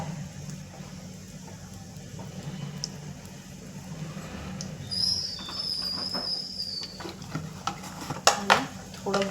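Cumin seeds and a few curry leaves frying in hot oil in a pan, with mustard seeds, give a steady soft sizzle with occasional sharper crackles and clinks that grow toward the end.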